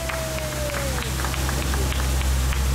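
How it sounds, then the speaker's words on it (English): Passengers on a San Antonio Riverwalk tour boat applaud their guide. A scattered patter of claps runs over a steady low engine hum, with faint crowd noise in the background. "Give him a round of applause, everybody's doing it."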